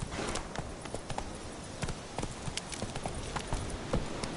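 Roach, the horse in The Witcher 3 video game, gallops along with quick, regular hoof clip-clops. The strikes are fairly close and steady, with no talk over them.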